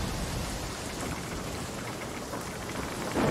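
Heavy rain in the pirate game Sea of Thieves during a dark storm, a loud, even roar of downpour that fills the whole stretch with no voices.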